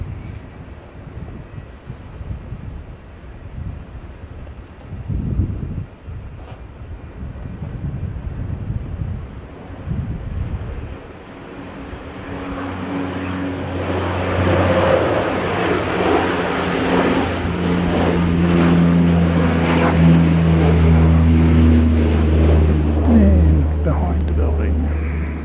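A Dash 8 Q300 turboprop airliner rumbles past at an airport, its drone rising and strengthening into a steady, loud roar with a sustained engine hum, under wind buffeting on the microphone.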